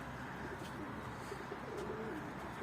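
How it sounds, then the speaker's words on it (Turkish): Pigeons cooing softly in their coop after its door is opened, low rolling coos over a steady background hiss with a few faint higher chirps. "Evet kuşlarımızı açtık."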